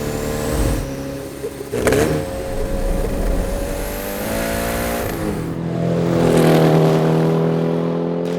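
A Porsche 356-based car accelerates hard with its engine revving, the mid-pitched engine note rising and swelling loudly for several seconds, with a couple of sharp gear-shift breaks along the way.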